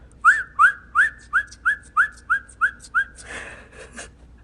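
A pet bird whistles a quick run of about eight rising chirps in an even rhythm, close and clear, then gives a short rough squawk at the end.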